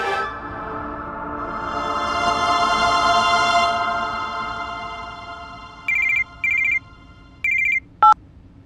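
A phone rings with an incoming call, first as a long swelling ringtone melody, then several short electronic beeps in quick succession, loud and close with no talking over it.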